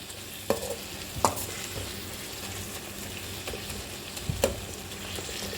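Tomato chutney mixture sautéing in a pan, with a soft continuous sizzle broken by a few sharp scrapes and taps of the stirring spoon.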